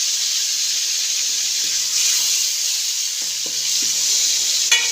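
Ground spice paste for rasam sizzles steadily in a hot pan with mustard seeds, a constant close hiss broken by a couple of soft stirring knocks and a sharp clatter at the end.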